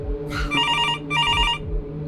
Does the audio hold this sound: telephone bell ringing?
yes